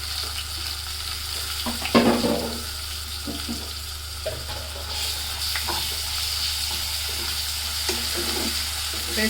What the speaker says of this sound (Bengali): পেঁয়াজটা ভাজা হয়ে গেছে রসুন দিলাম